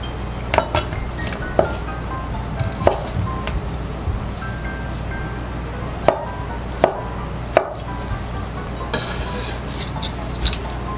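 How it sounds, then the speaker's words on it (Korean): A knife chops konjac into cubes on a cutting board in sparse, sharp taps with a few light clinks, set against a steady low hum. "그럼 이렇게 깍두기 모양으로 잘라지네요"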